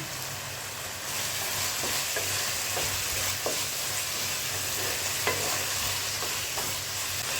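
Mushroom masala with curry leaves sizzles steadily in a pan, a loud continuous frying hiss broken by a few sharp stirring clicks and scrapes.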